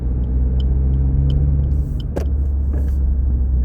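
Suzuki Swift ZC33S on an HKS Hi-Power Spec-L 2 exhaust and 35mm lowering, a steady loud low rumble of engine and exhaust while driving, with a few faint clicks and a brief sharp knock partway through.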